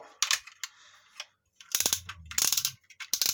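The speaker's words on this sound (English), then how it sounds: "nice heavy ratchets" Heavy ratchet joints on a transforming toy robot click in short bursts, a few quick isolated clicks, then dense rattling runs of clicks as the limbs are swung, close and crisp with no talking.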